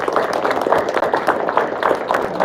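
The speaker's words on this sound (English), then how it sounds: "A huge round of applause again." An audience at a school science event applauds with steady, dense clapping that holds at a fairly loud level throughout.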